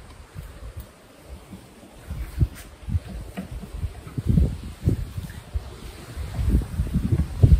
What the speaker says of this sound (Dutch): Het waait er nog wel heel flink.